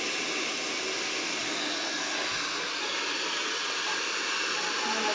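A hair dryer blows steadily during a blow-dry with a round brush, giving a loud, even rushing hiss close by that holds without a break throughout.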